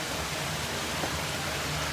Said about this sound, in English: water with the manure comes inside this drum